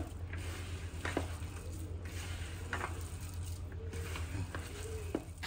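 Chicken marinade with a little oil is stirred in a bowl, producing soft, wet scraping and squishing strokes at a slow, uneven pace, close by but faint.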